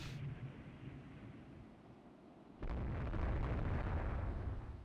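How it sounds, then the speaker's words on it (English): Naval gunfire at destroyers in Rule the Waves 2, a night battle against a cruiser force, breaks out as a sudden loud rumbling barrage over a low background hum and keeps booming steadily to the end. "something opens fire at destroyers"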